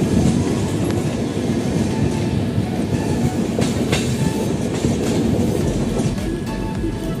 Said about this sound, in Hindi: अब हमारी ट्रेन जो है उज्जैन स्टेशन पहुंच चुकी है